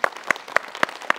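Five sharp, evenly spaced hand claps ring out alone at a steady pace, crisp and close with a little room echo.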